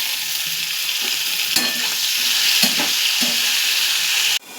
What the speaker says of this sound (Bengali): এগুলো মোটামুটি ভাজা হয়ে এসছে, এখন এই ক্যাপসিকামটা এখানে দিয়ে দেবো।